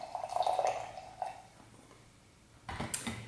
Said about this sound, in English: So we're gonna pour in our 1/2 cup of coffee.